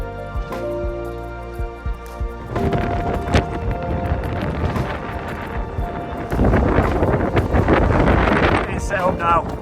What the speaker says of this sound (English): Set up now, really windy.